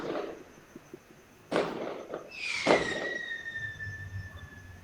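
Firecrackers bursting outdoors during festive celebrations, with a few sharp bangs and a long rising whistle from a rocket-style cracker, heard at moderate distance against a quiet background.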